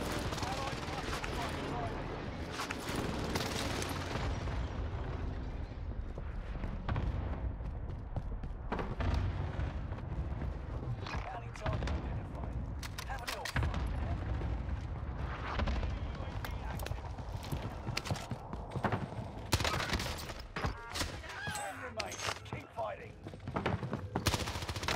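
Rockets and gunfire in Call of Duty Warzone on Rebirth Island, with enemies firing rockets from house windows: dense, continuous bursts of automatic fire and booming blasts fill the whole stretch, loud and layered.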